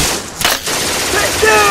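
Rapid bursts of toy-like gunfire crackle in a short Lego animation scene, a couple of loud sharp volleys followed by a noisy wash with whistling tones near the end.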